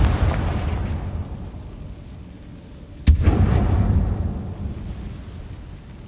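The Confringo blasting spell goes off in Hogwarts Legacy inside a tomb-like mine, giving a sharp crack midway followed by a deep rumbling boom that trails away, over a low, dark ambient background.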